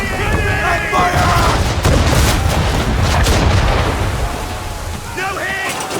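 A ship's cannon broadside roars in Assassin's Creed III, with heavy overlapping booms and rumbling blasts rolling over several seconds. Shouted crew voices and chirpy sound effects sit around the barrage.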